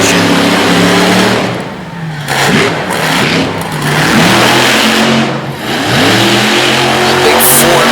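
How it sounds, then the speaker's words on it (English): A loud, powerful Ford racing engine in a racing truck revs repeatedly, pitch dipping and surging in waves as it roars close by. "A big Ford racing engine out of the Bonner's Motorsports camp"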